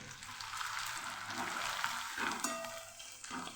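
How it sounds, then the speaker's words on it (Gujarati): Corn poha flakes sizzle and crackle steadily in hot oil for a puffed-rice chevda, a close, continuous frying hiss with occasional stirring and no talking. "હવે આપણે પવાને તળ લઈશું"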